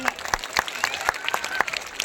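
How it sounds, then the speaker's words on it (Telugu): An audience at a government scheme launch event applauds MLA Shahjahan Basha with loud, sustained clapping and distinct sharp hand claps, with some voices mixed in. "షాజహాన్ బాషా గారికి అందరూ గట్టిగా క్లాప్స్ కొట్టాలా"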